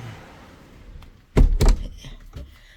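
A heavy door in a home in the Netherlands is swung shut, giving two loud, close thuds in quick succession as it closes and latches, with quiet room tone before and after.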